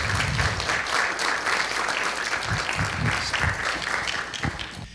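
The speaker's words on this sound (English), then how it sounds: "why don't you give a big applause to welcome" A lecture audience applauds steadily to welcome the UK ambassador at Korea University, dense clapping that holds for several seconds and tapers slightly at the end.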